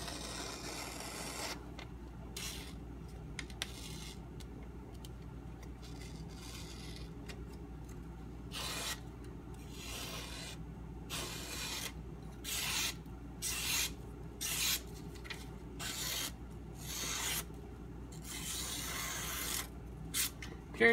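Steel edge of a Bark River Northstar EDC knife in CPM 3V being sharpened, with quiet, repeated rubbing strokes in short bursts, close and soft, with no talk.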